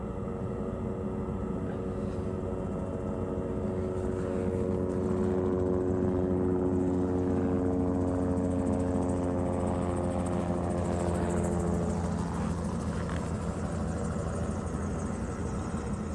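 The fan of a HeatMaster G4000 outdoor wood boiler running after kicking on, a steady droning hum with sustained tonal whine, moderately loud and continuous with no talk.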